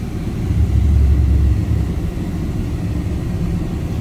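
A 1995 Chevrolet C/K 1500 4x4 pickup idles steadily with a deep low rumble, heard from inside the cab under the broad hiss of the air conditioning. It swells slightly early on, then holds even.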